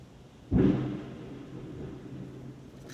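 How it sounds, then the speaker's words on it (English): Thunder crash from a lightning storm in the video game Metroid Fusion, a sudden loud broadband boom followed by a rolling rumble that slowly fades under a steady low hum. "Man, that lightning sounds really bad."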